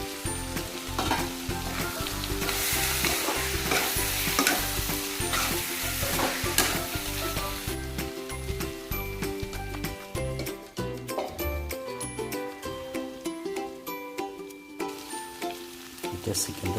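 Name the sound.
chicken frying in pan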